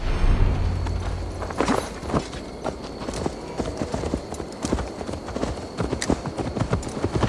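Horse hooves clip-clop at a steady walking pace in Assassin's Creed Valhalla, riding through an untamed Gloucestershire forest, close and fairly loud over a low ambient game bed.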